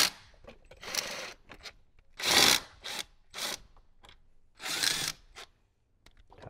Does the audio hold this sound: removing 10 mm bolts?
yes